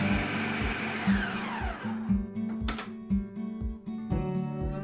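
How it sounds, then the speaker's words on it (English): A food processor grinds nuts into creamy nut butter with a loud, close, churning motor hum that pulses in a steady rhythm as the pitch shifts. "continue blending until you get a creamy consistency like this"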